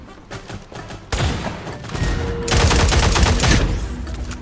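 Gunfire in the video game Cyber Hunter crackles in rapid bursts, first as a lighter rattle and then as a dense, loud fusillade of overlapping shots with no letup.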